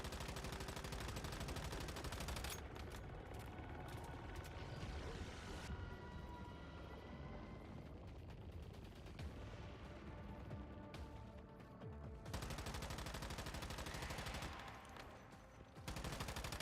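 Sustained gunfire from a gun in the survival shooter Once Human, rapid automatic bursts crackling densely for long stretches, thinning briefly mid-clip before heavy firing resumes, loud and close with no voices.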